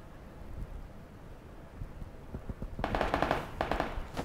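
Bursts of gunfire from the PUBG battle royale video game, starting faint and scattered, then two loud, dense rapid volleys near the end, all with no talking.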